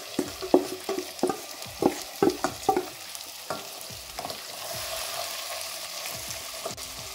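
Marinated lamb brain and sliced green chili frying in hot oil, opening with a quick run of clattering stirring strokes, then settling into a low, even sizzle, close and alone without speech.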